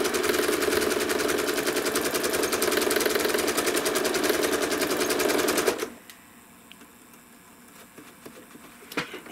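Sewing machine stitching a quilting swirl, running steadily at speed as a loud, continuous rapid whir for about six seconds, then stopping abruptly and leaving near silence with a few faint clicks.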